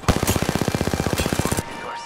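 A rapid burst of automatic gunfire in a shooter video game rattles off as a dense, evenly spaced volley for about a second and a half, loud and close, then cuts off.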